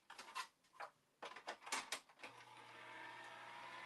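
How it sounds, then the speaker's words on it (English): Electric die cut machine feeding an acetate sheet through its rollers, faint clicks and creaks in short bursts, then a steady low motor whir that settles into a continuous hum. "I'm going to run this through my die cut machine"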